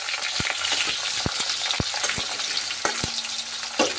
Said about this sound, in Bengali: কলাগুলো ভেজে নেব।